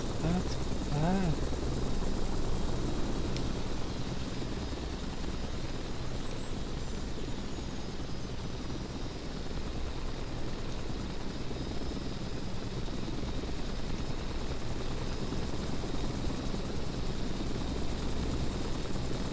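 Helicopter in the flight game Microsoft Flight Simulator X during a sling load mission, its steady rotor and engine drone running continuously at even loudness throughout, with a brief voice near the start.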